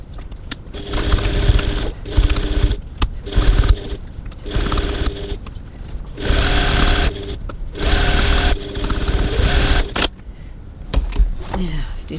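A sewing machine stitches the side seams of a handbag with a 1 cm seam allowance and a 2.4 stitch length, running in several steady whirring bursts separated by short pauses. The sound is close and fairly loud, with no one talking.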